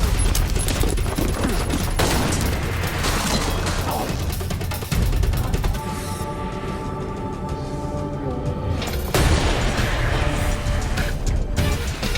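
Dense, chaotic gunfire from an action film scene at a dam, loud bursts and rapid shots over a continuous roar of noise and crashing, mixed with dramatic soundtrack tones for about twelve seconds.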